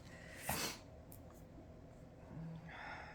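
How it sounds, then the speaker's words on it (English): A quick wet sniff near the mic, followed by faint breathy sniffles against a quiet room. "I'm so sorry, I got the sniffles."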